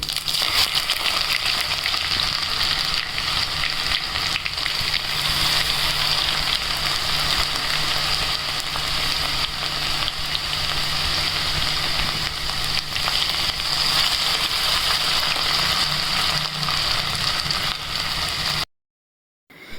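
Garlic and ginger paste fries in hot oil with cumin seeds, giving a loud, steady sizzle that runs unbroken for the whole stretch with no voices, then cuts off abruptly near the end.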